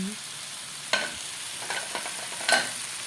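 Boiled noodles, spring onion and celery are stirred into a risol filling in a frying pan, producing a soft sizzle under a few distinct spatula scrapes and clacks, with no speech.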